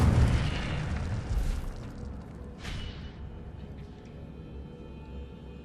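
The Incendio fire spell in the Hogwarts Legacy video game bursts with a muffled boom and a fiery whoosh, followed by a second swishing burst that fades into quiet.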